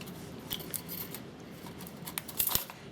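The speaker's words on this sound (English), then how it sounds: "Better to cut these with the scissors really" Scissors snip through thin nickel battery connector strip in a few crisp, sharp cuts, close up in a quiet room with no voices.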